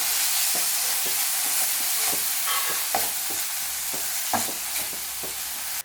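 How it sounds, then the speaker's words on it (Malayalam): A spoon scrapes and stirs masala paste through chicken with curry leaves in a hot pan, over steady loud sizzling, with repeated scraping strokes and no voices. "നമുക്കിത് എല്ലാം കൂടി നന്നായിട്ടൊന്ന് മിക്സ് ചെയ്ത് കൊടുക്കാം"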